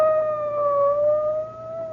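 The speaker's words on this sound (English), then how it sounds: "It's a police car." A police car siren wails in an old-time radio drama, a steady tonal whine with faint overtones that dips slightly in pitch and swells gently in loudness, heard alone without voices.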